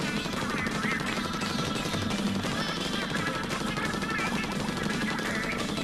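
Ink shooting in Splatoon on Wii U: a dense, continuous spray of splatting shots under busy game music and effects, with a player talking over it.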